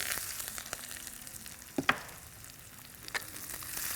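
Onions sizzle steadily in a hot pan, with a couple of sharp clinks from stirring.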